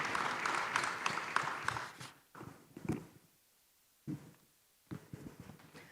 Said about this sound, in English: Another round of applause for our panelists and the moderator.